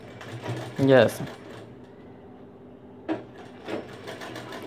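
A sewing machine runs in short bursts while stitching along the edge of a blouse piece, with a quiet voice briefly heard between the runs.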